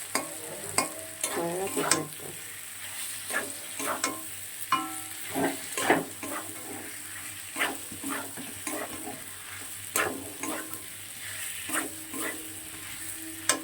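Pointed gourd and potatoes being stirred and sautéed in a pan, with soft sizzling frying under repeated scraping and clinking strokes of a spatula against the pan at an irregular pace.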